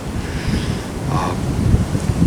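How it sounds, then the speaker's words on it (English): Wind gusting to about 15 knots during a Kansas deer hunt, buffeting and rushing at moderate level, a continuous blustery roar with slight swells, no voices. "The wind is brutally. It's like gusting to 15 knots."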